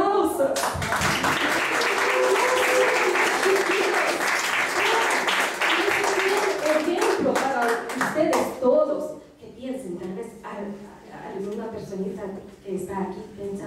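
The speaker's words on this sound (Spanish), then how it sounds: "Por eso aplauso." Audience at a Christmas piano recital of adult beginners breaks into warm clapping that fades after about eight seconds, giving way to people chatting, including a voice.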